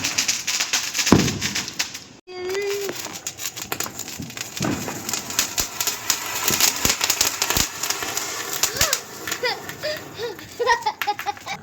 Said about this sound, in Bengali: ওই জন্য এবারে আমি পপ আপ ফাটিয়েছি, জাস্ট ওই রকম আলু বোমের মতোই ছোটো ছোটো, ফেললে ফেটে যাবে